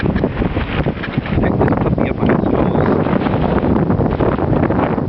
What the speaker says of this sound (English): warm, windy day